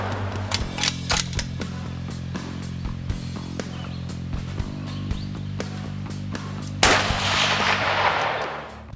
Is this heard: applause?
no